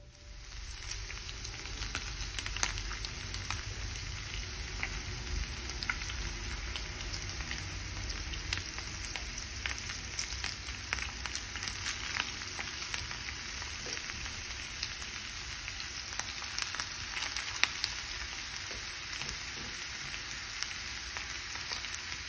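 Pork frying in a skillet for a pork and bell pepper dish, giving a steady, continuous sizzle and crackle that holds at an even level for the whole stretch, with no talking.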